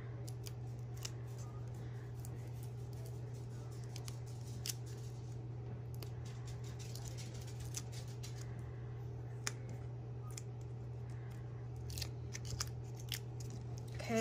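Scissors snip paper steadily for card making with Intri'lace cards, many small crisp cuts in an irregular rhythm, close and quiet over a constant low hum.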